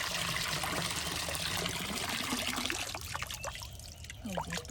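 Soaked lentils are swished and rinsed by hand in a bowl of water, giving close, continuous sloshing and trickling with small splashes, steady throughout and without talk.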